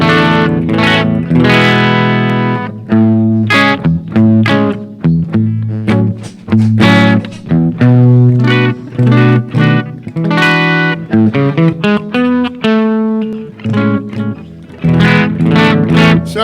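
Electric guitar through an AC30 amp simulator with volume cranked up, playing a busy riff of overdriven chords and single notes with reverb, loud and close throughout with no talking.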